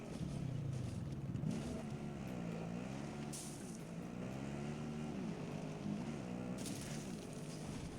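A motor vehicle driven in a video game drones with a steady engine hum whose pitch rises and falls as it speeds up and slows, staying constant throughout.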